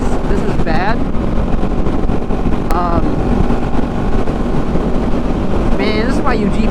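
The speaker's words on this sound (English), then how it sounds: "Bro, it's so windy, it's pushing me." Strong wind buffeting a microphone during a freeway ride, a loud continuous rushing roar with road noise, and brief voice-like sounds cutting through.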